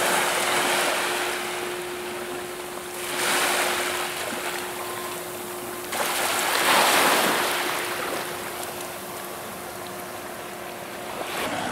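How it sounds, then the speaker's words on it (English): Small, gentle sea waves lap at the shore by a nautical club in Puerto del Rosario, Fuerteventura, swelling and washing in soft broad surges over steady wind noise, with no talk. "Nice sound of some waves, albeit little ones."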